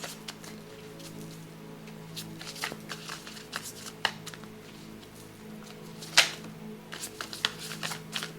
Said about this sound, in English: Alright, 3 more shuffles.